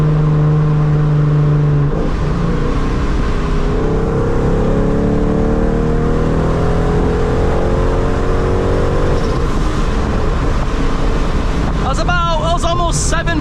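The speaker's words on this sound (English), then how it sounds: "I'm gonna do another third gear hit, and I want to see how much PSI we're pushing" A supercharged NewEdge Mustang accelerates hard in third gear at almost 7 PSI boost, its engine note rising in loud sweeping pulls over heavy road and wind roar, with talking heard through the run.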